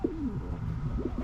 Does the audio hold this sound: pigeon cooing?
yes